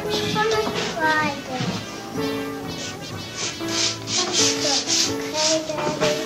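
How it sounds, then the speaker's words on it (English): Repeated rasping strokes of sandpaper rubbing along a wooden edge, fairly close and rhythmic, with voices talking over the work. "You know why we're sanding this, Sabre?"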